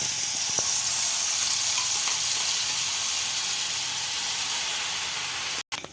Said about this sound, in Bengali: আর আমি যে পেস্টটা বানিয়ে রেখেছিলাম মিক্সিতে, সেই পেস্টটা তেলের উপরে দিয়ে দিচ্ছি।